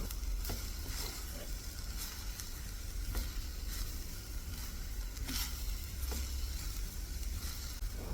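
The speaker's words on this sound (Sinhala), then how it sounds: "දැන් මේ කොළගුව මැල්ලුම පොඩි පත්තකින් හරි එහෙමත් නැත්නම් හැන්දකින් හරි කලවම් කර" Cabbage mallum sizzles and fries in a pan as a spoon stirs it, a steady close frying hiss with occasional scraping clicks of the spoon throughout.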